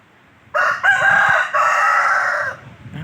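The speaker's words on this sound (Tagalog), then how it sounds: "Marami silang alagang manok dito mga kasimple oh." A rooster crows once, loud and close, a long drawn-out call lasting about two seconds over quiet background noise.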